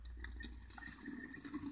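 Still water runs from a public dispenser into a bottle, a faint continuous trickle and splash with a few drip-like accents, quiet and alone.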